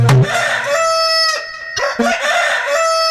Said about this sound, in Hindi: आधी रात में जाकर के चंद्रमा मुर्गा बन करके आवाज लगाता है